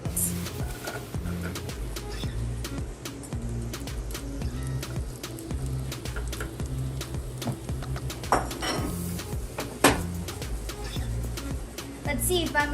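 Food being pushed around a pan on a stove with a utensil, giving repeated light scraping and clinking taps close by, with a loud clatter near the end, under a steady background hum.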